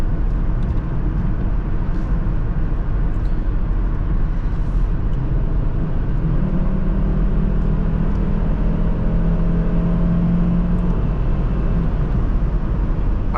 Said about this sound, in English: I love the way the 5-cylinder engine sounds.